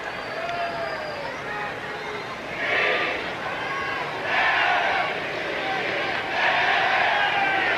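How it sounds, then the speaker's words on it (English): A large tennis crowd at the 1998 Lipton Championships final swells in waves of cheering and roaring over a babble of voices, with a commentator speaking over it. "the crowd has not been quiet since we went away"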